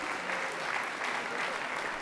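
An audience at a sports awards event claps in a steady, even burst of applause, moderately loud and sustained throughout with crowd murmur underneath.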